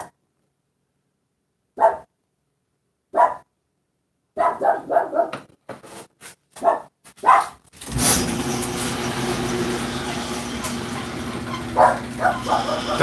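Dog barking in sharp separate bursts spread across several seconds near a cabin, loud and close, giving way to a steady rumbling background noise.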